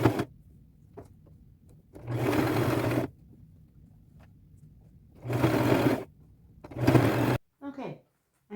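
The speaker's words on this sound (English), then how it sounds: "So I'll just sew all along here till I get to the other end." A sewing machine stitches fringe trim onto a dress in three loud, steady runs of one to two seconds each, separated by quiet pauses with soft handling noises.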